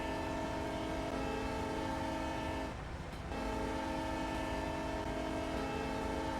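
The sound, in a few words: GP9 locomotive local train running, from the video game Train Sim Pro USA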